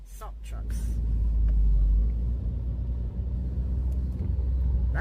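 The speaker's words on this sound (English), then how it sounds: "That's an awful lot of salt trucks." Heavy trucks spreading salt on a snowy Chicago street rumble past in a steady, loud low drone, with brief voices heard early over the traffic noise.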